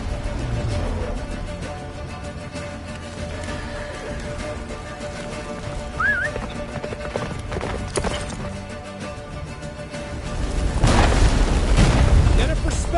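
In The Witcher video game, a horse gallops amid rumbling game sound effects and a swelling score, with heavy low booms building toward the end.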